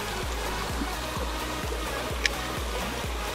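A river waterfall on a winter smallmouth bass fishing trip in Maryland gives a constant broadband rush of flowing water, steady and fairly close, with a faint regular low pulsing underneath and no speech.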